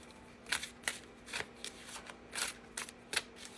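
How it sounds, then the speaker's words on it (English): Tarot cards being shuffled by hand close up, a series of short crisp riffling bursts at an uneven rhythm, with a low steady hum beneath and no talking. "Shuffle."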